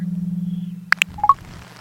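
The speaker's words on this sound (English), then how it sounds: "It's letting us know that this is what it sounds like when it's going to rain." A phone weather app's rainfall notification alert plays after a steady low hum: two quick bright tones, then a short rising blip pair, brief and clean with no talking.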